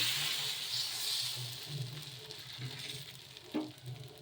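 Dosa batter made from beaten rice sizzles steadily on a hot pan, a close, continuous hiss with small crackling bursts and one brief louder spatter near the end.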